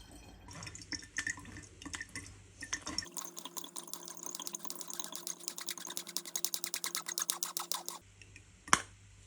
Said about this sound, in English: I filter the liquid that has dripped from the fruit through a strainer and pour into the bottle.